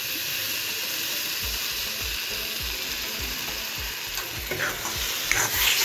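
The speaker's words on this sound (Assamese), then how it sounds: "ঘিখিনি দি দিলোঁ, ঘিখিনি মিক্স কৰি দিব লাগিব।" Spoon stirring ghee through sizzling carrot halwa in a pan, soft repeated scraping strokes over a steady hiss of frying, fairly quiet and without talk.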